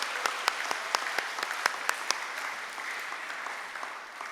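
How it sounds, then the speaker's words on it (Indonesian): Church congregation clapping, several sharp individual claps standing out at first over a steady mass of applause that gradually softens toward the end. "Mari kita tepuk tangan untuk mereka yang sudah menerima Tuhan Yesus."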